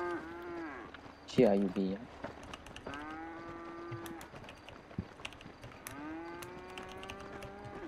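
Cows in a GTA V roleplay game moo in long, drawn-out calls, one after another, at moderate distance, while someone speaks briefly and intermittent game clicks and thumps sound.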